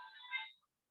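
Mobile phone ringtone going off during a church worship service, a short bright melodic burst of about half a second that cuts off abruptly, heard alone.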